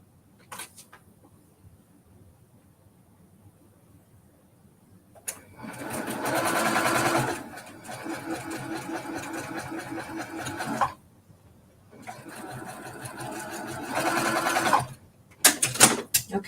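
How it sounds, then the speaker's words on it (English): A sewing machine stitches a wool quilt block in two long bursts of rapid whirring separated by a quiet pause, with a short final run and faint handling clicks in between. "Make sure I'm sewing this correctly here."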